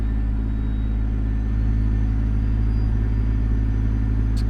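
Steady low diesel rumble of a truck with Zee's DD60 engine in American Truck Simulator, a constant droning idle or cruise with no talking.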